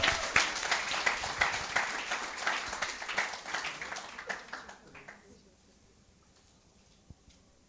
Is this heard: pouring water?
no